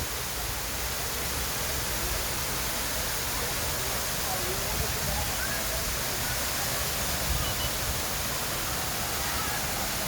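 Water rushing and splashing at Friendship Fountain on the downtown Jacksonville riverfront in Florida, a steady, broad wash of spray heard close and continuous throughout, with no talk.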